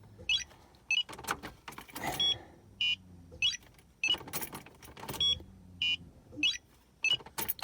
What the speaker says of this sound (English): that's my radar detector if you're wondering what that beep is